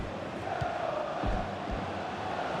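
Video game football crowd at Manchester United's stadium in FIFA EA FC career mode, a steady dense roar that swells briefly as fans rise for a shot flying over the bar, with no voices distinct above it.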